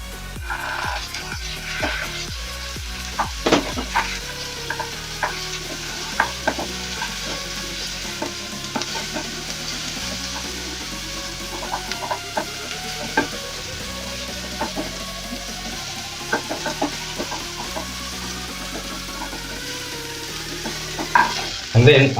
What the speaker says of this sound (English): So we'll saute our onions, and then I'll go in with my